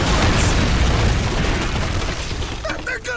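Bombs explode in Call of Duty 3 during a World War II battle at Chambois, a loud, sustained roar of blasts and rumbling debris that fades toward the end as faint voices emerge.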